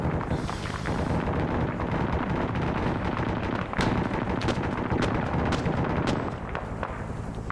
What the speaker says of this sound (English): the MG's shooting at the frickin' aircraft